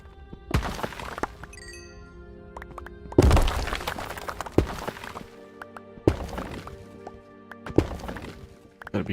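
A pickaxe strikes rock while mining in the game Noblewood: about six sharp, separate thunks with a hard clinking edge, spaced a second or two apart over a quiet background.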